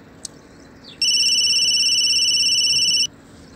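A phone ringtone sounds once for an incoming call, a steady electronic trill lasting about two seconds in a quiet room.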